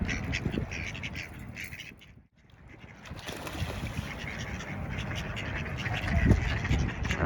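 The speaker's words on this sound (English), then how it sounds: "Ducks is cool." Ducks quack near water beside a small deck, scattered calls rising over a noisy outdoor background of wind and distant activity, with a brief lull midway before the ambient noise returns.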